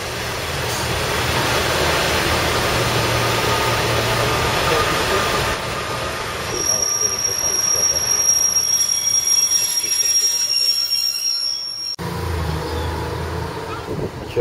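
A Class 142 train passing at Queen Street, wheels squealing loudly with sustained high-pitched screeches over heavy rumbling rail noise that continues steadily for most of the clip.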